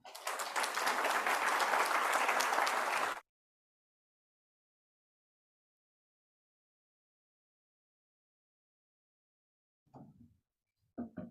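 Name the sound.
conference audience applauding the director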